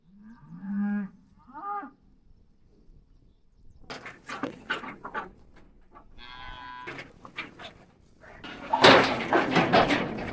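Cattle moo near a catch pen, two low drawn-out calls at moderate distance, followed by rattling and clanking of gates or metal and some rustling movement.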